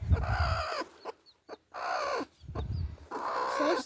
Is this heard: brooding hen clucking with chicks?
yes